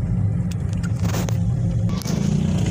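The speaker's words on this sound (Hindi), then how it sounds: "ट्रैफिक बहुत ज़्यादा है यहाँ पर, मतलब गाड़ी बहुत प्रॉब्लम से निकल रही है।" Car engine rumbling steadily while the vehicle inches through heavy, congested city traffic, with faint scrapes and brief revs over a constant low drone.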